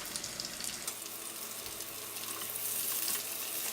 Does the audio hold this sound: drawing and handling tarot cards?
no